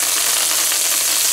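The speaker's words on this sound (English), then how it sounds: "So we're starting with our onions as usual. Fry this up a bit, build some flavors." Onions fry in a pan with a loud, dense, continuous sizzle that stays close and steady throughout the short moment.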